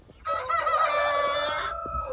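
A young rooster from a backyard flock of hatchlings crows once, loud and close, in a single long, strained cock-a-doodle-doo that trails off at the end.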